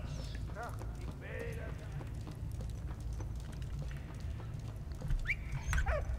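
A dog in the World War I video game Valiant Hearts: The Great War, with short whimpers and small yelps over steady game background noise, close and moderately loud, with occasional footstep-like clops.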